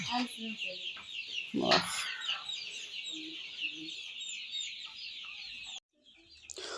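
Free-range country chickens cluck nearby in a steady, chattering chorus of close calls that continues for several seconds and then briefly drops away.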